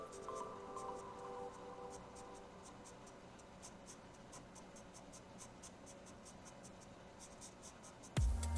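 Graphite pencil blending and shading on paper for a realistic clothing drawing, a soft continuous scratchy rubbing with steady repeated strokes, close and quiet throughout, ending in a brief louder thump.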